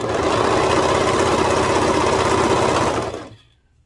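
A sewing machine stitches a skort seam in one fast, steady, loud run of rapid needle clatter, then winds down and stops near the end.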